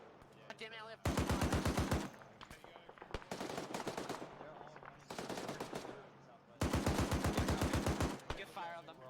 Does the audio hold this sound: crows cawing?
no